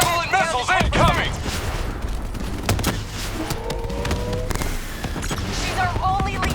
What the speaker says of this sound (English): Manticore Javelin missiles incoming!